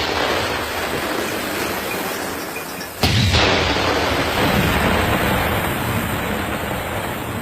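A controlled detonation of a cluster bomb: a sudden deep boom at about three seconds breaks through steady wind-like rumble, followed by a sustained roaring wash of noise; distant and heavy.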